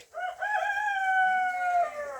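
A rooster on a homestead crows once, a loud near drawn-out call lasting nearly two seconds, with a faint low cluck underneath.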